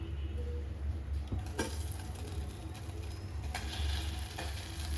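Butter melting and sizzling in a hot pan on a stove before oil and marinated chicken go in for butter chicken, a steady moderate frying hiss with faint crackles throughout, no voices.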